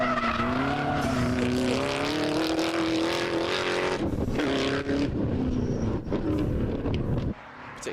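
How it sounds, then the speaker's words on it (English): A Ginetta race car at Anglesey circuit revs hard with a harsh, rising engine note and squealing tyres, loud and close, then drops off as it passes, leaving a rougher burble and crowd-level background noise. "That was a pretty nasty little engine note."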